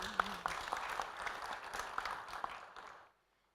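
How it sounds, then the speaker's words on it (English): Applause from the audience at a cargo and logistics panel discussion, a moderate patter of many hands lasting about three seconds before cutting off into silence, with a faint voice underneath. "Ladies and gentlemen, could we have a warm round of applause for her, please?"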